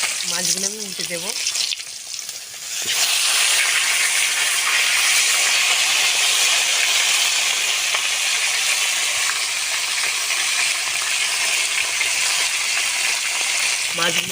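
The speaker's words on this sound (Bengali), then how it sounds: "মাছগুলো সুন্দর করে ভাজা হয়ে গেছে" Pieces of fish, with the head set in the middle, frying in hot oil in a village kitchen; a steady loud broadband hiss and sizzle runs throughout after a brief quieter stretch with a voice at the start.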